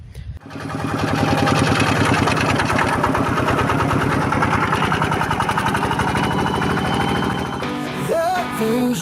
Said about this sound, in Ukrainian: зараз заведу трактор і покажу трошки в роботі